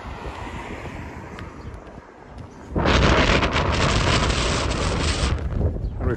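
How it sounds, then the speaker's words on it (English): Strong wind buffets a microphone outdoors along a creek walk; after a quieter start, a loud broadband rumble suddenly surges and stays dense to the end. "We found the wind again."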